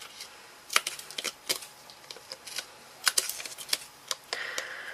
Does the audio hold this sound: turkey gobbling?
no